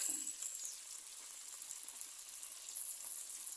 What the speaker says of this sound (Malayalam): എണ്ണ നന്നായിട്ട് ചൂടായി വരുമ്പോൾ ഒരു പത്ത് പതിനഞ്ച് ചെറിയുള്ളി നടുവേ കയറി വന്നിട്ട് കൊടുക്കാം